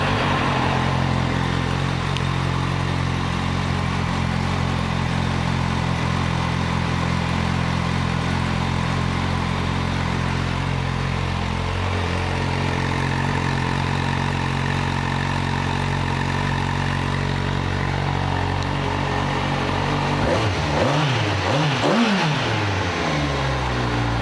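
A 2016 Kawasaki Z800 ABS motorcycle engine idles steadily and loud up close with a droning hum, then near the end is blipped through a few quick revs that rise and fall.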